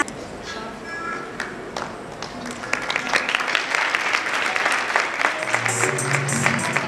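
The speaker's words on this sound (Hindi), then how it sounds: "सभी तालियों से उनका स्वागत करें" Applause at a convocation ceremony welcoming guests, starting sparse with scattered claps and swelling into fuller, denser clapping from the crowd, with a voice speaking over it early on.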